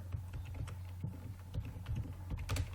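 Fingers type on a computer keyboard in quick, soft clicking bursts, close and quiet over a steady low electrical hum.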